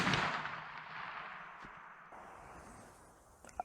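A Bond Arms Rough n Rowdy over-under pistol fires outdoors: one sharp report at the start fades into a long rumbling echo, followed by a small mechanical click near the end.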